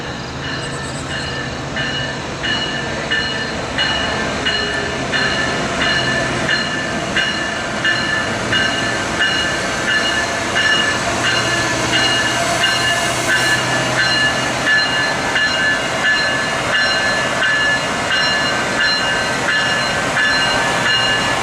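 A train on the PRR Octoraro Secondary line rolls past close by, a loud steady rumble of railcars with rhythmic wheel clatter and faint squeal that continues unbroken throughout.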